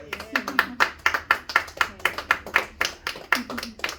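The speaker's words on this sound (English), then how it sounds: "Now let's give a round of applause." Small audience at a live artist presentation in a studio space clapping in a loose, even rhythm, a dozen or so distinct claps close by, with no talk over them.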